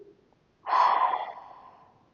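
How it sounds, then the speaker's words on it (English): One deep yogic out-breath, a long breathy whoosh heard near and clear in a quiet room, swelling quickly and then fading slowly. "breathe out"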